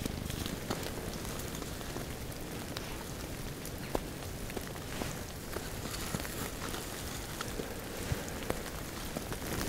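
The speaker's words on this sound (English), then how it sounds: "It was snowing real hard and then it turned to this rain." Steady rain patters on surfaces nearby in a late-season forest after heavy snow, with scattered heavier drops ticking through a constant wet hiss, no voices.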